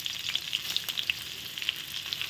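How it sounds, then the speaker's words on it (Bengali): Halved, salted potato pieces fry in hot oil, giving a steady close sizzle dotted with small sharp pops and crackles. No one speaks. "লবণটা দিয়ে আমি এবার আলুটা ভালো করে ভেজে নেব"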